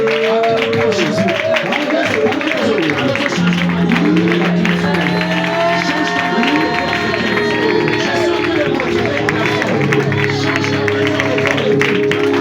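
A church congregation applauding and cheering for Jesus, giving loud, continuous clapping and crowd noise mixed with voices, sustained tones and a spoken voice throughout.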